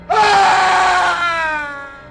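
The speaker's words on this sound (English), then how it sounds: "the young man awoke with a frightened scream" A young man lets out a frightened scream, a loud sudden cry that begins sharply, holds steady for about a second, then wavers and fades out over two seconds.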